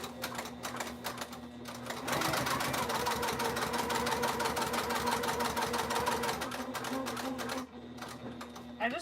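A sewing machine stitching a fabric wristlet, a fast steady run of mechanical clatter lasting several seconds, close and clear, with brief quieter moments before and after where a voice talks.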